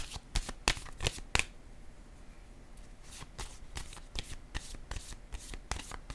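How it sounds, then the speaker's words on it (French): Playing cards are handled and laid down on a table, giving a series of soft, quick, close snapping and slapping taps spaced irregularly over a quiet background. "Je vais déposer une carte ici."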